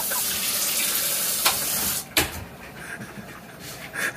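Water runs from a kitchen sink tap in a beach house, a steady hiss broken by a couple of sharp knocks and splashes nearby.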